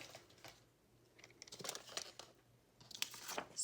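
Leftover kit paper for a junk journal is cut down with quiet, crisp snipping and crinkling, in several short bursts close by with pauses between, faint and without talk.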